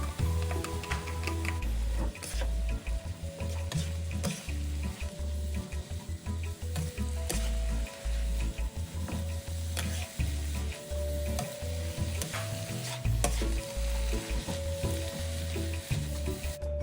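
Cabbage cake filling with glass noodles being stir-fried in a pan: a steady, close sizzle with frequent spatula scrapes and light clinks against the pan, and no talking.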